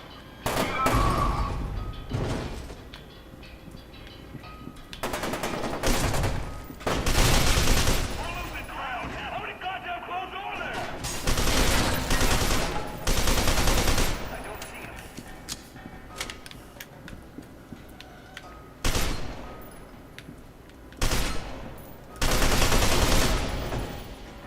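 Shotgun blasts in the first-person shooter F.E.A.R. Reborn, loud booming shots fired in irregular bursts and single blasts across the stretch, with quieter gaps of game ambience between them.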